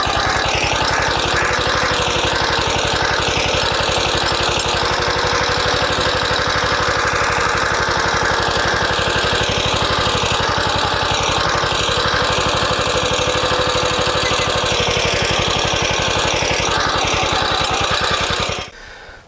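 A walk-behind tractor fitted with a potato digger runs its engine steadily for nearly the whole stretch, a loud close rhythmic chugging with a constant mechanical clatter, then cuts off abruptly at the end.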